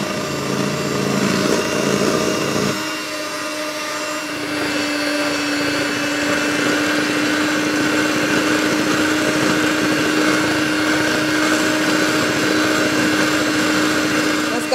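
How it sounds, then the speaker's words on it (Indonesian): An electric hand mixer beats butter and margarine with powdered sugar for a peanut butter marble cake, giving a steady close whir that holds for the whole stretch and shifts in tone after the first few seconds. "sekarang kita bisa naikkan kecepatan mixernya ya sampai paling top"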